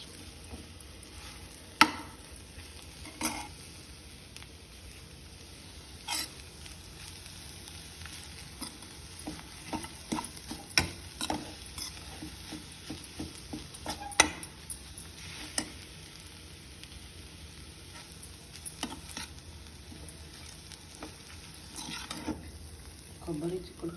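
Broad beans and grated coconut frying in a pan with dried red chillies, a soft continuous sizzle broken by light scraping and stirring taps, quiet and close with no talking.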